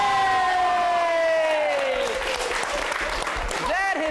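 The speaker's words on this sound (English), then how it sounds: "Let's have a round of applause for all our improvisers" Audience applause for the improvisers at the close of a live improv theatre show, a loud, dense patter of clapping and cheering that swells and holds, with a descending whistle-like tone fading across the first half.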